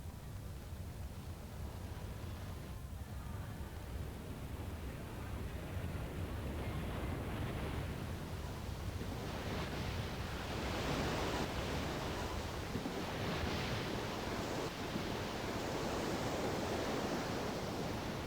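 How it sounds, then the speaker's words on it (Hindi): Tsunami waves rushing in toward shore, heard as a steady, loud broadband roar of surging water and wind that grows rougher and more turbulent in the second half, with no voices. "ये ऐसे दिखते खतरनाक वाले नजारा जी हाँ सुनामी आते वहां"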